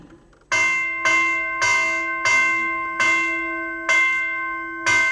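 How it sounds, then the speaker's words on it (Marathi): A large bell rings loudly and repeatedly, about six even strikes, each ringing out and decaying before the next. "दरबाराबाहेरची न्यायाची घंटा एके दिवशी घणघणू लागली"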